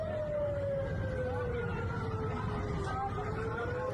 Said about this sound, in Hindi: सायरन की आवाज सुनाई दे रही है